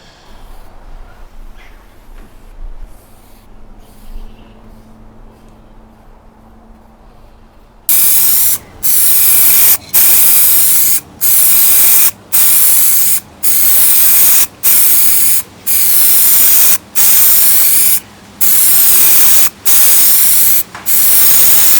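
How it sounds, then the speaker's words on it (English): Spray gun applying sanding sealer or grain filler to the wooden cabinet of a 1941 His Master's Voice model 411 console radio, a loud close hiss in regular bursts of about a second each after a quiet start. "I'm putting sanding sealer or grain filler on the areas that I wanted"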